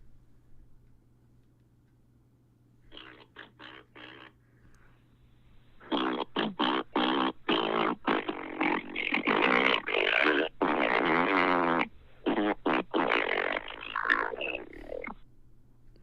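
A voice on a played-back voicemail imitates a long run of fart noises, choppy bursts and sputters that start sparse and then come thick and fast, close and fairly loud over a low steady hum.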